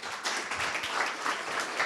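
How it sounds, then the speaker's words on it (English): Audience applause at a cybersecurity meetup talk, a short burst of steady clapping from a room of listeners, fairly soft and diffuse throughout. "Applause first"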